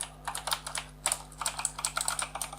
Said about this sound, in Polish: Jest wyraźny klik, wyraźny moment aktywacji, ale ten klik jest cichszy